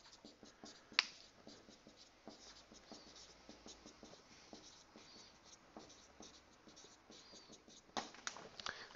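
A pencil scratches steadily across paper in a continuous run of quick, close strokes, with a couple of sharper taps and a faster flurry near the end, no voices over it.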